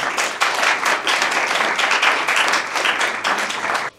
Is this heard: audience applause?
yes